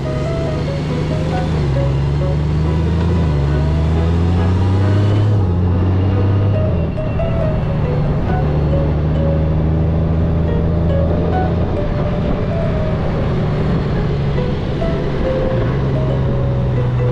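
A 2024 Honda GoldWing GL1800 touring motorcycle sets off on the road, its engine droning loud and steady with rising and falling tones as it accelerates through gear changes, with wind rush.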